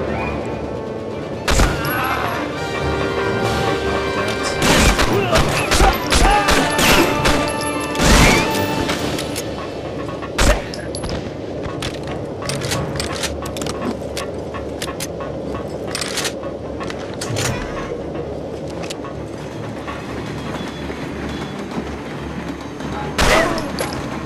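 Gunfire and sharp impact bangs from the PS2 video game Medal of Honor Frontline burst out irregularly over a steady background rumble, with several loud cracks scattered through the stretch.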